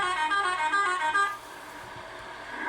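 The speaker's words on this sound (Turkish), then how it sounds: "Korna çalmışım ben" A truck horn in Euro Truck Simulator 2 gives one loud, sustained blast of a bit over a second, then cuts off, leaving a low engine and road rumble.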